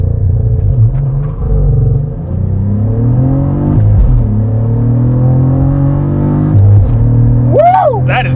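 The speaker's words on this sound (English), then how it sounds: "2022 Cadillac CT4V Blackwing manual transmission with launch control." A 2022 Cadillac CT4-V Blackwing with a 3.6-liter twin-turbo V6 and manual transmission launches hard, the engine roaring loud and close as it climbs through rising revs, drops for a gear shift and pulls again, ending in a shout.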